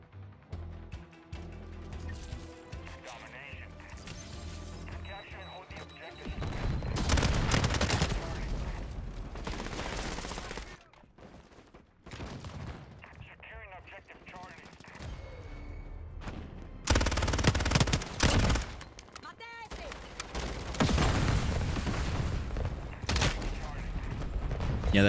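PPSh submachine gun fire in a Modern Warfare match comes in loud rapid bursts separated by quieter stretches of footsteps and mechanical game sounds, with sharp impacts close by.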